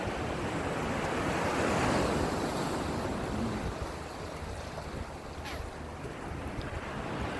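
Ocean surf washing onto a beach in breezy, cold-wind weather, a steady broadband roar that swells near two seconds and eases slightly, with wind buffeting the microphone and no voices.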